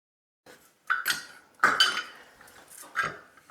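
A small brass differential cover comes off a Redcat Ascent Fusion RC crawler with several close metallic clinks and taps from parts and tools. The sounds come in short bursts separated by brief pauses, with no talking.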